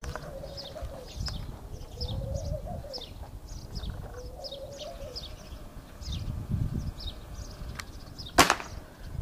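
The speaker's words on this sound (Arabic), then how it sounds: "خلي بالك الشجرة مليانة يمام يا خال" Doves coo repeatedly from a tree full of them, soft rising calls recurring every couple of seconds amid chirping birds, outdoor rustle and a sharp snap near the end.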